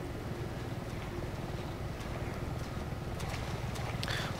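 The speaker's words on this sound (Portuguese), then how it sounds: "Tô ouvindo barulho de helicóptero" Helicopter in Resident Evil 7, heard as a steady low rotor drone with wind-like rumble filling the whole stretch, moderately distant, with faint clatter near the end.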